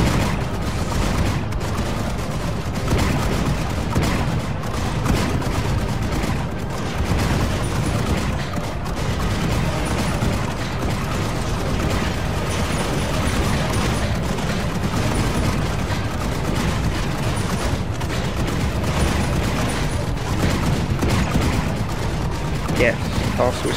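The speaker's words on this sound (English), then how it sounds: "Gunners, get ready! Shoot them, shoot them!" Gunners firing volleys in the strategy video game Tower Wars, a dense continuous clatter of gunfire and booms running the whole stretch, with shouted voices mixed in over the battle.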